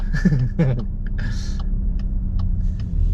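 A car drives uphill on a tarmac country lane, giving a steady low road-and-engine rumble throughout, with a brief voice near the start.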